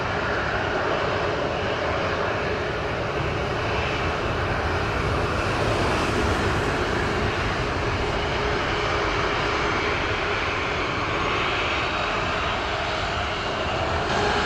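Airplane engine running on the runway at Montego Bay airport in Jamaica, a loud, steady, broadband roar that holds constant throughout with no voices.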